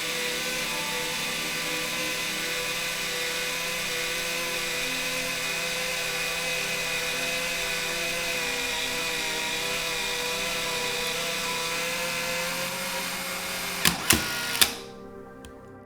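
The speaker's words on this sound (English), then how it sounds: "The camera now automatically rewinds the film." A Canon T70 35mm camera's built-in motor rewinds the film with a steady, continuous mechanical whir, ending in a few sharp clicks before the motor stops and falls silent.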